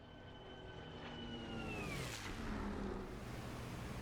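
A BF 109 K4 warplane in the DCS flight simulator passes by the Eiffel Tower, its engine drone rising and then falling in pitch as it sweeps past, steady and fairly loud throughout.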